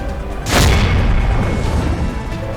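Firecrackers set off in a celebration by party youth workers in Gorakhpur: one loud, close boom bursts out, then a sustained crackling rumble trails off more quietly.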